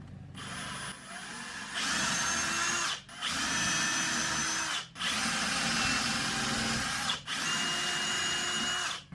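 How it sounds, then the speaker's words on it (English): A power drill whines steadily through scrap wood in four long runs, each broken by a brief pause, loud and close with no talking. "I'm going to drill a hole in the center of those roughly."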